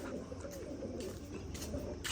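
Pigeons coo steadily in a loft, a soft continuous murmur of overlapping calls close by, with no talking.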